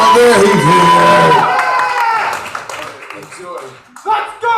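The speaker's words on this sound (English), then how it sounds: "Keep clapping, he's almost there" Open mic crowd clapping and cheering for a performer heading to the mic, loud and close at first with whoops, fading to thinner applause and scattered shouts.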